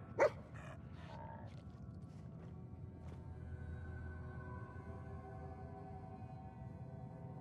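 Dogmeat, a dog in Fallout 4, gives a short bark and a few yips at the start, followed by faint whimpers over a steady low game ambience that continues to the end.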